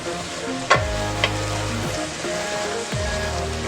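Thyme, garlic and other ingredients stirred in a sizzling pan for a Philly cheesesteak, a steady loud frying hiss with a few sharp utensil scrapes and knocks against the pan, close up and without talk.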